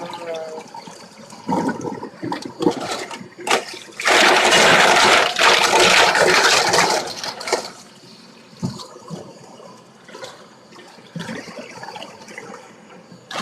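Water pours and splashes as it is drained off cooked clams for a clam soup with basil, a loud gushing burst in the middle between quieter trickles and clatter.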